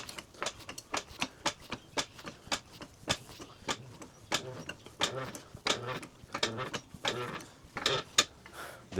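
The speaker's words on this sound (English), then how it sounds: "The jack sounds like it has an attitude or something, like it doesn't want to work today." A car jack ratchets while raising a Dodge Grand Caravan minivan during suspension work, giving a fast run of sharp clicks with uneven rhythm, close and fairly loud, under a speaking voice.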